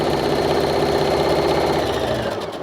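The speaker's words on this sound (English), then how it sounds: "And I'm just going to start stitching." A sewing machine stitches a pillow cover with a half-inch seam allowance, catching the ties as it goes: a loud, continuous close-up motor whir with rapid needle chatter, easing slightly at the end.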